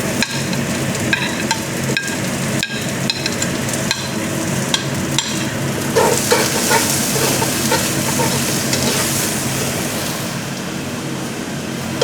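Onions sauté and sizzle in a hot pan for a homemade sopas, with a continuous bright frying hiss broken by sharp clacks of a utensil stirring against the pan.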